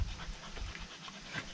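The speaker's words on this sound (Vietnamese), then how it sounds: "Con chó mẹ này lúc nào cũng dễ gần đấy." Mother dog panting in a rural Vietnamese village garden, a steady quick breathy rhythm close by with faint background noise and no talking.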